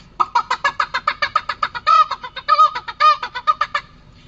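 A performer's voice mimics a chicken on a school festival mimicry stage: a steady run of about twenty loud, close, nasal clucks and squawks in a quick rhythm, with a few longer drawn-out cries near the end, and no talking.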